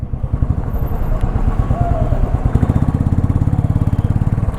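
A Bajaj Dominar 400 motorcycle creeps through heavy traffic on a North Bengal road from Pelling toward Siliguri, its engine chugging in a loud, steady rhythmic thump close by.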